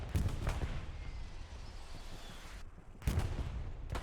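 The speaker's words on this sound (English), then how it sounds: "This artillery's coming in hot on PHX Cheese." Artillery fire in the video game Squad on a Hurtgen map, with heavy booming impacts at the start and again near three seconds, rumbling low through a continuous loud battle din.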